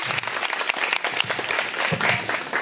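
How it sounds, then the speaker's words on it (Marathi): A crowd of former students at a school alumni reunion gives loud, continuous applause for their teacher. Many hands clap close together in a thick, even roar for the whole moment, with no gaps. "प्लीज सरांसाठी जोरदार टाळ्या।"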